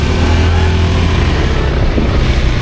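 A motorcycle rides through heavy monsoon rain, its steady mid-range engine drone close and continuous, with a broad wash of rain and road noise layered over it for the whole stretch.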